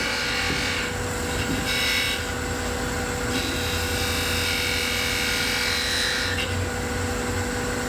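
Sandpaper rubs steadily against a turned wooden finial, a continuous close abrasive hiss that swells and eases in strokes over a constant low workshop hum.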